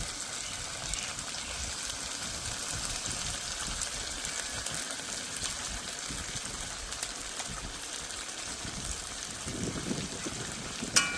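Steady pouring of spice-washing water into a pan during cooking of a Bengali prawn malai curry, a continuous gushing, splashing flow heard close up without talk.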